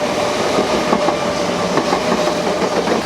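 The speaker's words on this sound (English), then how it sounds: "The train is going by." A train rolls past close by at the Ouse Valley Viaduct, Balcombe, on the London to Brighton line, a constant heavy rumble with rhythmic clickety-clack of wheels over the rails.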